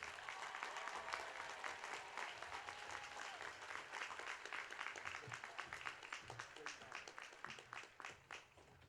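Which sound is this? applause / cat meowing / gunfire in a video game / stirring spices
applause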